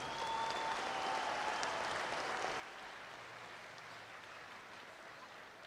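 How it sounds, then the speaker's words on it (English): A crowd at Salt City Speedway's USAC Silver Crown race night gives a round of applause for a chaplain's recovery, a steady, moderately distant wash of clapping that cuts off abruptly partway through, leaving quieter background noise. "a round of applause for his recovery here tonight"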